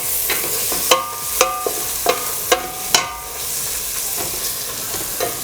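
Onions with turmeric are stirred and fried in a pan, with a steady close sizzle and about six distinct metallic spatula knocks against the pan, no talking.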